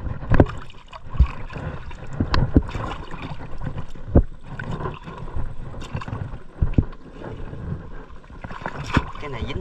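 A small motorboat passes on a Vietnamese river where shrimp are being caught, its engine a low, uneven chugging mixed with water slaps and splashes, with scattered louder knocks nearby.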